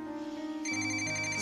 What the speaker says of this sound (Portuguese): Então abaixa esse toque.